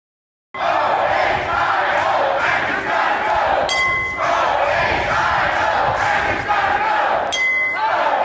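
A crowd of lockdown protesters shouting and chanting outside the State House starts abruptly and continues loud and close, with rhythmic collective yells and brief sharp clinks in the mix.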